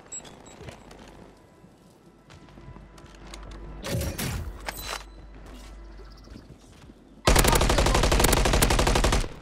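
MCW assault rifle fire in the battle-royale shooter Warzone 3: scattered shots and impacts early on, then a loud, sustained full-auto burst over the final two seconds, without speech.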